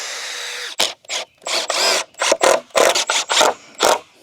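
A power drill drives screws into wood while a wheelie trainer is built. It comes as a string of roughly eight short, loud whirring bursts, close by, with brief pauses between them.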